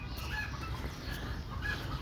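Native Bangladeshi chickens cluck at a farm in soft, scattered calls over a constant low background hum.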